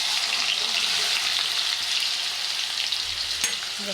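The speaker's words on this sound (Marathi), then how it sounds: "छान परतून घेऊया कांदा" Chopped onion with cumin seeds and asafoetida sautés in hot oil for a Maharashtrian veg curry. The sizzle is steady and close, with faint stirring scrapes in the pan.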